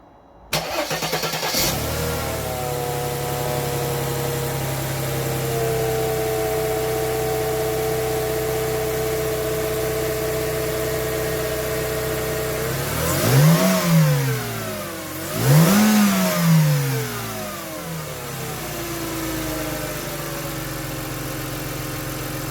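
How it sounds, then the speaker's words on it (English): Mercedes C Class W202 with an M112 V6 engine after a spark plug and air filter change. It cranks and starts, settles into a steady idle, then gives two sharp revs before returning to a smooth, even idle, recorded close up. "I will just fire it up just now, just to make sure that it still runs on 6 cylinders"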